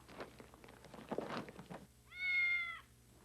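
A single clear cat meow, drawn out and fairly close, follows a stretch of quiet rustling and soft knocks.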